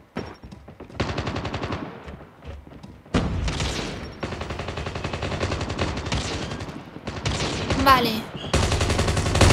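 Rapid bursts of automatic gunfire from Call of Duty Mobile played on an iPhone 11, loud and repeated in clusters with brief gaps, while someone talks over the shooting.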